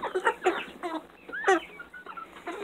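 Black Sex Link chickens clucking close by, a run of short, uneven clucks and squawks with brief gaps between them.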